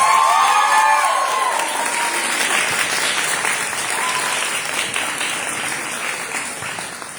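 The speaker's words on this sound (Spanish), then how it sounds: "Aplausos." A festival audience gives a theatre guest and former circus performer a dense, sustained round of applause, loud at first and easing slightly, with faint voices in the crowd.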